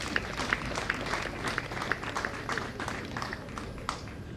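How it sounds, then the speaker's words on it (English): Applause at the Uzima University graduation ceremony in Kisumu, a moderate, steady patter of many hands clapping at a distance, sustained evenly without voices. "And we give the chair another round of applause."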